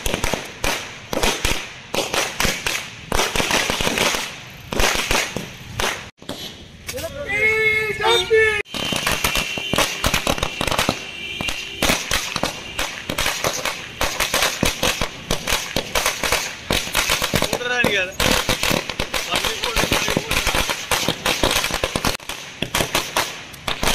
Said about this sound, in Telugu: బీజేపీ నాయకులు మోహన్ రావు పాటిల్ ఆధ్వర్యంలో టపాకాయలు పేల్చి ఒకరికొకరు మిఠాయిలు తినిపించుకుని సంబరాలు జరుపుకున్నారు.